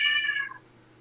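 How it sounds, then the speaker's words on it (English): A house cat gives one short, close meow that fades within about half a second in a quiet indoor room. "Sorry, that's my cat. He's mad that I won't go upstairs."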